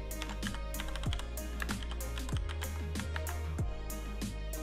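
Rapid typing on a computer keyboard, a dense run of crisp clicks and clacks with a few heavier thuds from the space bar, close and clear, with no talking.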